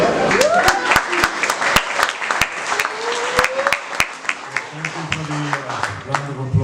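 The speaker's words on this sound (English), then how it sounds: "Round of applause, I appreciate that." Scattered clapping from an awards gala audience, with a few distinct sharp claps rather than a full ovation, runs beneath someone talking over it.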